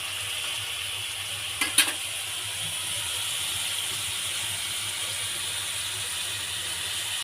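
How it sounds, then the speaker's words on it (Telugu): Onions sizzling in a pan for a chicken curry: a steady, close frying hiss that runs the whole time, with a couple of quick clicks early on and no talking. "ఇప్పుడు ఈ ఆనియన్స్ని 2 మినిట్స్ పాటు బాగా కుక్ అవనివ్వాలి"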